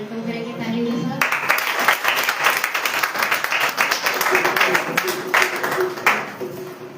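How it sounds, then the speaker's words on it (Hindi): Applause from a church Good Friday meeting welcoming a speaker: sustained crowd clapping breaks in after a short spoken moment and continues evenly, with voices faintly audible beneath the claps. "आइए हम सिस्टर शमा का वेलकम करेंगे तालियों के साथ"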